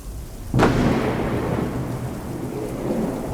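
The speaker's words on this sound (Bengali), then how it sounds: "এলো মুষলধারে বৃষ্টি, সঙ্গে সঙ্গে তেমনি বিদ্যুৎ, তেমনি মেঘ গর্জন" A sharp thunder crack bursts over heavy torrential rain, then the downpour keeps on as a dense, loud, steady roar.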